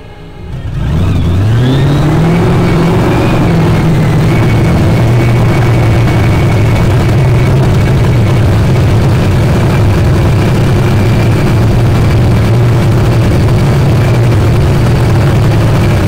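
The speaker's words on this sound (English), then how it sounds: "Race fans, it's time to burn some nitro." Top Fuel nitro dragster engines firing up and revving, an extremely loud, distorted roar that swells within the first second and holds at full power for the rest of the clip.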